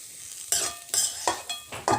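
Potatoes frying in a pan with mint leaves being stirred in, giving bursts of sizzling and scraping spatula strokes, about five sharp stirring gestures spaced under a second apart, close and fairly loud without speech.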